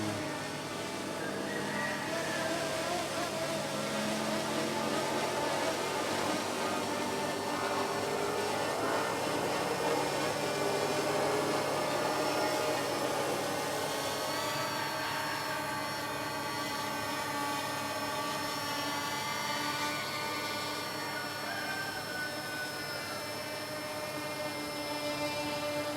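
A quadcopter drone hovers steadily and then descends toward a landing pad outdoors, a continuous buzzing whine with shifting propeller tones at moderate, even loudness.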